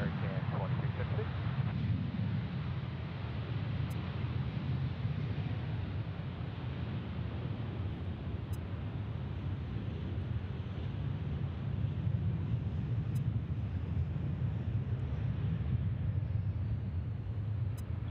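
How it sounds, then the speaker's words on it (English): An Airbus A321 jet takes off at Charlotte airport, giving a steady low broadband roar heard from a distance over wind buffeting on the microphone. "A321 taking off there"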